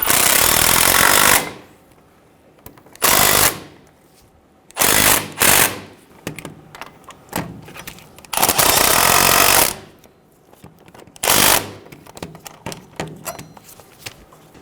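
Impact tool running down the caliper bolts on a 2005-2015 Toyota Tacoma front brake, in loud repeated bursts of about a second with quiet gaps and light clanks between them.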